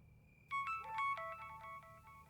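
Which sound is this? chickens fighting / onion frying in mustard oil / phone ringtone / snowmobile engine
phone ringtone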